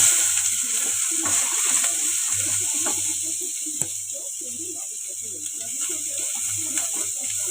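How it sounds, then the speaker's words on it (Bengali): Sliced onion and green chilli fry in hot oil for a Maggi noodle dish, giving a steady, fairly even sizzle that continues without a break, with a low hum running underneath. "তেলে এই যে পেঁয়াজ আর কাঁচা লঙ্কাটা আগে দিয়ে দেবো"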